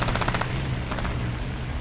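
Bf 109 machine guns firing in War Thunder air arcade combat, two loud rapid bursts of chattering automatic fire with a gap between, over a steady engine drone.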